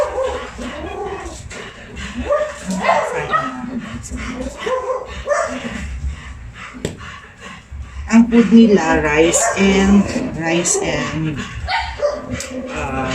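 Several dogs bark, yip and whimper excitedly close by, overlapping in a noisy burst while a person talks over them.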